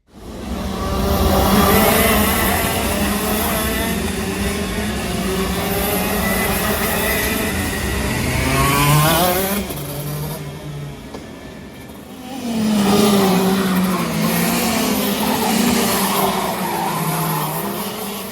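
Go-karts racing on Michael Schumacher's former go-kart track, loud buzzing engines rising and falling as karts pass, with a quieter gap midway before another kart sweeps by.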